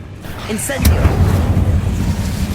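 The Incendio fire spell cast in the Hogwarts Legacy video game, erupting in a loud whooshing roar of flame right after a short voiced cue, then holding as a dense rumbling blaze.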